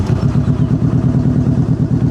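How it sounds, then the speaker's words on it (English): A 2014 Kawasaki Vaquero VN1700 with Vance & Hines exhaust pipes runs close by, a steady loud rumbling V-twin throb pulsing evenly throughout with no talk. "I'll go ahead and start it up so you can hear those Vance & Hines pipes."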